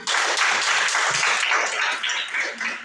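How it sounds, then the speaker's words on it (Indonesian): Classroom students clapping together in a lesson, a loud, dense burst of applause held steady for a few seconds before easing slightly. "Ya, tepuk tangan."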